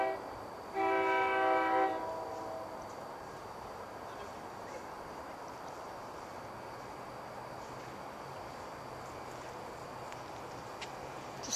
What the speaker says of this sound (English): you can see a train's coming up now